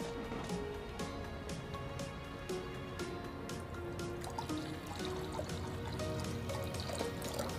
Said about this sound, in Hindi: इसमें भरेंगे पानी